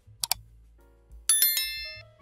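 A bright notification bell dings twice in quick succession, then a brief soft tone and a louder, ringing chime that decays over about a second, clean and close against near silence.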